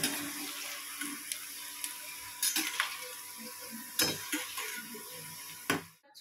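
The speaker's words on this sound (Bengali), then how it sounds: "এই দেখো ডিম ভাজতে হচ্ছে ওর জন্য" An egg frying in a pan gives a steady soft sizzle with occasional clinks and scraping of a utensil, fairly close, with no talking.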